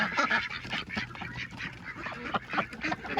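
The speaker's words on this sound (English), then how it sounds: "Got some guineas" Guinea fowl calling on a farm, a dense overlapping chorus of harsh, raspy cries from several birds close by, continuous throughout with no talk.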